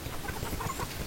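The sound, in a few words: chickens clucking on a Tanzanian poultry farm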